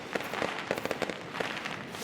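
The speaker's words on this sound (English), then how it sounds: "Wow, firecrackers." Firecrackers in the video game Nine Sols go off in a quick scatter of sharp crackling pops, bunched closely together and fairly loud, with no speech over them.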